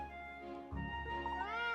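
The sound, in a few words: cat meowing in a video game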